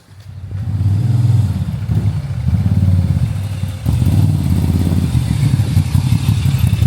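An 800 cc motorcycle engine rumbles and revs loudly up close, its exhaust note rising and dropping in steady pulses.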